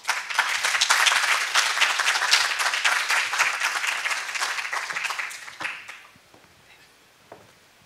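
Audience applause at a university graduate school entrance ceremony, dense steady clapping from a full hall for about six seconds before fading out, followed by a few scattered claps and quiet room noise.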